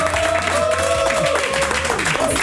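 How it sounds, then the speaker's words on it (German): Studio audience applauding at the Marcel Hirscher show on Ö3 radio, a steady wash of clapping that fills the whole stretch alongside sustained musical tones. "Ich lasse einfach den Applaus für sich sprechen."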